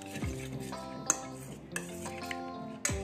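Fish tikka marinade of yogurt, mustard paste, oil, spices, green chili, curry leaves and coriander stirred in a bowl, giving soft wet squelching scrapes with a few sharp clicks of spoon on bowl, close and steady.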